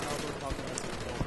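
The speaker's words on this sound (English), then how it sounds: "You're spitting as many rounds as you can at the enemy. Holding that trigger down" Galil assault rifle in Call of Duty: Black Ops, fired in a long held-trigger burst, a dense rattle of gunfire under game noise and ambient sound.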